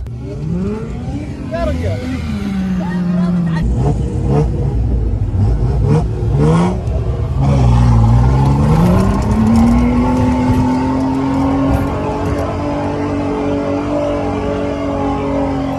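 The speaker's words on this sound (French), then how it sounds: "avec une Jeep et qui est pas un moteur diesel cette fois. On va voir si ça grimpe." Petrol-engined Jeep revving hard while climbing a desert dune in Saudi Arabia, the engine pitch rising, dipping and climbing again through gear changes, loud and close, with voices talking over it.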